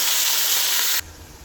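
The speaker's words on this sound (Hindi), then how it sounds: "1 किलो कीमा, वो शामिल कर देंगे और इसको अच्छे से इन प्याजों के साथ भून लेंगे" Minced meat, a kilo of keema, sizzling with onions in a pan for dum keema: a loud, steady bright frying hiss that cuts off abruptly after about a second into a quieter sizzle.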